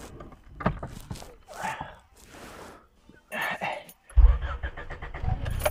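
A car is started with the key: a jangle and clicks, then the engine cranks and catches into a close, rumbling idle near the end, with some faint talk.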